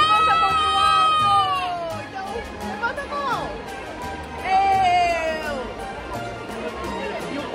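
At a large Christmas market in Vigo, a crowd on a swinging carousel ride shouts and cheers loudly, with high excited voices rising in bursts over busy background chatter.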